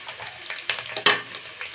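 Whole spices, including mace, drop into hot oil with sliceed onion for chicken biryani in a rice cooker. A short, close sizzle is punctuated by a few sharp stirring scrapes.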